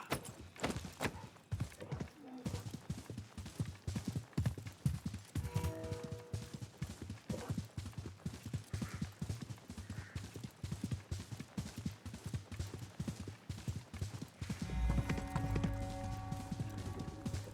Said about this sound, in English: let's call our trusty steed